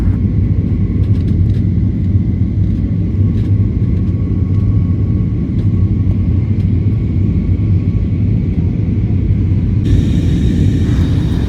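A steady, loud low roar of aircraft engines fills a passenger jet cabin during a Kochi to Hyderabad flight, continuous and unvarying, with a faint hiss rising near the end and no speech.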